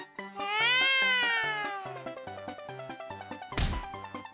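A cartoonish cat from the Osomatsu-san video game lets out a long rising-and-falling meow, followed by a bouncy musical backing and a sharp hit near the end.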